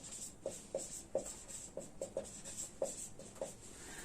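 Chalk or marker writing on a board, with a series of short, quiet strokes and taps in an uneven rhythm, close and alone.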